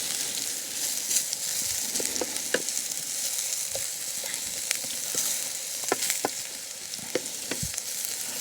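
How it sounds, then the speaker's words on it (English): Potatoes for corned beef hash frying in a pan over wood-fired firebox heat, a continuous sizzle with scattered crackles and pops, fairly close and steady, with no voices. "I'm not trying to fry these to a complete crisp, certainly not a mush"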